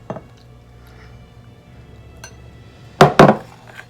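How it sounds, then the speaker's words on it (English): Utensil clinks and scrapes against a bowl as dumpling batter with milk is stirred, a few soft taps early, then two louder clattering knocks near the end in a quiet kitchen. "We'll mix this all up."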